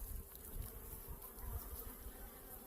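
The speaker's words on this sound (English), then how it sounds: "Look at all those bees." A dense, steady drone of many honey bees buzzing close by at their hive, a continuous low hum with no voices.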